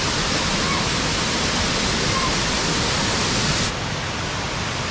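Broad, steady roar of cascading water at the Chorros de la Calera waterfalls in Juayúa, El Salvador, loud and close, filling the whole clip with constant rushing noise that drops slightly in level near the end.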